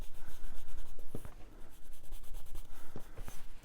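A brush sweeps tea dye across white paper at close range, with soft repeated strokes and faint scratchy taps, and no talking.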